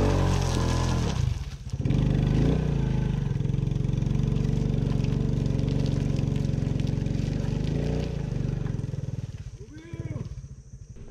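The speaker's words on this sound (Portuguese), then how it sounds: "Tá vindo um outro cara ali na frente, moto." A motorcycle engine drones steadily and loudly for most of the stretch on the BR-319 highway, with a brief dip near the start. Its sound wavers toward the end as another motorcycle nears.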